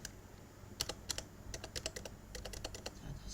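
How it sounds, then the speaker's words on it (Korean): Several computer keyboard keys clicking in a scattered, irregular burst, sharp and fairly close against a low background hum, with no voices. "여기서 F4키를 2번 누릅니다."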